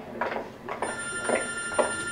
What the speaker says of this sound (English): Ignore the phone.